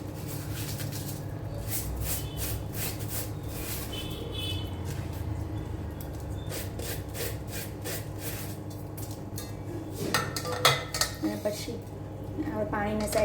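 Close metallic clinks and scraping as homemade shampoo ingredients go into a metal pot, with rubbing and a louder clatter near the end.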